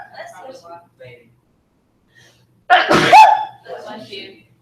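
One sharp, loud sneeze bursts out close by, with soft talk before it and a voice speaking right after.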